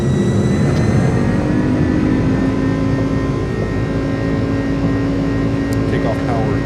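Jet airliner engines roar steadily at takeoff power in Microsoft Flight Simulator, a loud continuous drone with faint tonal whine, and a voice briefly talks near the end.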